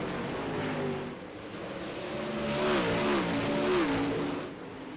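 Dirt super late model race car engines at Knoxville Speedway in a racing video game, buzzing and revving with pitch rising and falling as the cars power around the track, loud and continuous.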